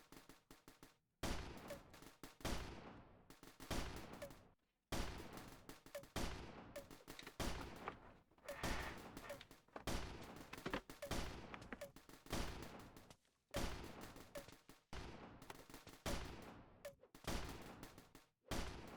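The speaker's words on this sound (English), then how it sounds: "So the Golden Scout does 4 damage each shot" Golden Scout towers fire in the Roblox Tower Battles game, rapid bursts of gunshots coming in repeated volleys with short pauses between, loud and steady with no talk over them.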